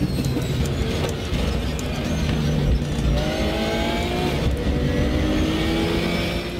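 Engine of the RUF RT12R GTR3 race car at Imola in RaceRoom, loud and close, holding a steady drone and then climbing through rising revs and gear changes.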